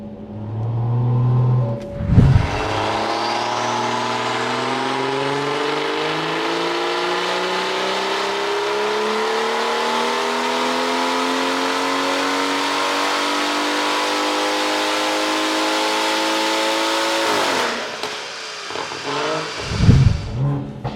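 A tuned BMW B58 engine with a big turbo, running on methanol, revs up and holds a high, rising whine for many seconds, loud and close, then drops back to idle with brief rumbles at each end.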